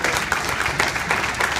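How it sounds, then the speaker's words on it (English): A round of applause from a union gathering's audience, steady dense clapping through the whole short stretch at an even, moderate level with no voices over it. "I think, deserves a little bit of a round of applause too"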